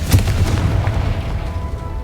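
A Confringo fire spell bursts in Hogwarts Legacy, a deep booming explosion with a sharp onset followed by a rumbling low tail that fades gradually.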